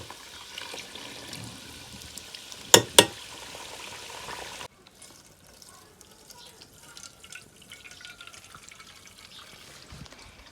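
Ghee bubbles in a pot over a wood-fired clay stove, a soft continuous sizzle with two sharp metallic taps, then cutting to a much quieter stretch of faint crackles and small knocks.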